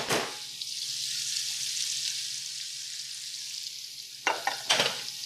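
Chopped celery, onions and red pepper sizzling in bacon grease in a pot, a steady close hiss with a few stirring scrapes and clatters near the end.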